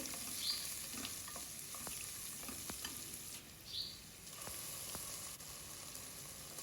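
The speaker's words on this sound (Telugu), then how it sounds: "కట్ చేసిన ఆనియన్ కూడా వేసి ఫ్రై చేయాలి కట్ చేసిన పచ్చిమిర్చి కూడా అందులోనే వేసుకోవాలి" Cut onion and green chillies fry in a pan with a quiet, constant sizzle and occasional light scrapes of stirring, faint and without talk.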